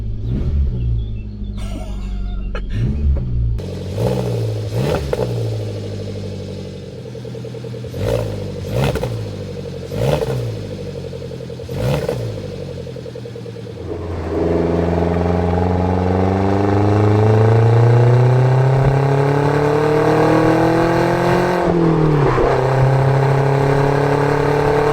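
Revving of a Suzuki Jimny with a Forge Motorsport exhaust: a series of sharp, rising blips at close range, then a long loud rumbling climb in revs that holds and falls away, with no voices.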